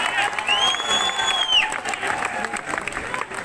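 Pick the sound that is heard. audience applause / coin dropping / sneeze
audience applause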